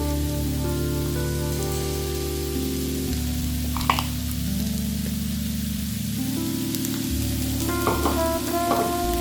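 Pepper liver fry sizzles in a pan as coriander leaves are mixed in, giving a steady crackling hiss with a few sharp clinks of stirring, under a continuous low hum.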